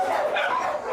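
A female Cocker Spaniel barks and yips in a quick, close, excited stretch of dog vocalization, with a voice faintly mixed in.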